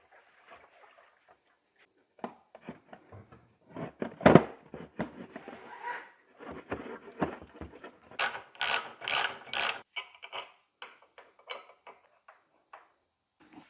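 A ratchet is worked while bolting the fuel tank back onto a Yamaha Tenere 700 motorcycle, giving close, scattered clicking pawl bursts and metallic taps, with a louder run of rapid ratcheting near the end.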